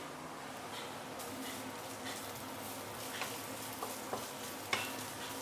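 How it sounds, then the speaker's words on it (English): Ginger slices sautéing in hot oil in a wok over medium heat give a steady, soft sizzle, with a few light clicks of stirring near the end. "add a little bit of oil inside the wok. Heat it up and put in the ginger. We're going to saute the ginger a little bit."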